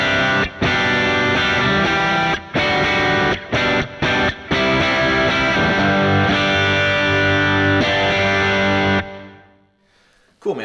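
An electric guitar played through a Kemper amp with no EQ and only light reverb rings loud and distorted, sustained chords stopping and restarting in short choppy breaks before fading out near the end.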